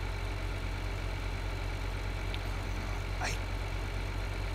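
Steady drone of a tractor engine in Farming Simulator 2013 while hauling a load toward the silo, a constant low mechanical hum with no breaks, faint and unbroken.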